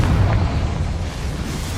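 A Confringo blasting spell detonates in the Hogwarts Legacy video game, a loud booming burst at the start that rumbles and fades into a low decaying roar, with no voices.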